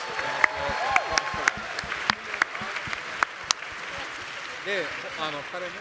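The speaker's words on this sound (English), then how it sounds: "Give yourselves a round of applause." A convention panel audience at Otakon 2024 claps and cheers in a broad wash of applause, with voices talking over it and sharp individual claps standing out nearby.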